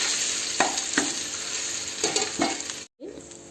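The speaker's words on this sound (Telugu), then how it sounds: "ఒక స్పూన్ అల్లం వెల్లుల్లి పేస్ట్ వేసి కలుపుకోవాలి బాగా" Ginger garlic paste being stirred in a hot pan for a meal maker curry: steady sizzling with a spoon scraping at a few irregular strokes, briefly cutting out near the end.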